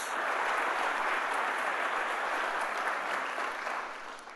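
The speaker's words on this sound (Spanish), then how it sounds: "¿Cuánto dan un fuerte aplauso a Jesús por esta palabra?" A church congregation at a Sunday morning service applauds steadily, a dense wash of clapping that holds for several seconds before easing slightly at the end.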